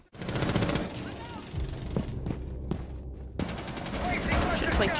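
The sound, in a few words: gunfire in the video game Rainbow Six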